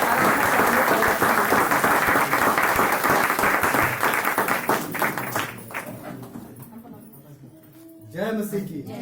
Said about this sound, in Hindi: तालियों के साथ स्वागत से करेंगे